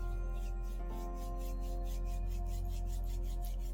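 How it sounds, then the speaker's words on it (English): Palms rub together in a soft, rhythmic back-and-forth swishing during a home meditation, regular strokes heard close over a low steady hum. "slowly bring your palms together and rub them"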